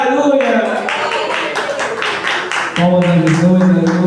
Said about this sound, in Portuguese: Palmas a Jesus, aleluia.